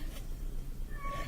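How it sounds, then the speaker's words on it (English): A cat lets out a drawn-out meow near the end of a short stretch of quiet room tone. "my cat is screaming"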